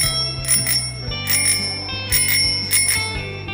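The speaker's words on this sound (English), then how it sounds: "Yeah, I heard that bell." A bicycle bell rings loudly in four quick double-trill bursts, spaced evenly over a low musical backing, with no one speaking.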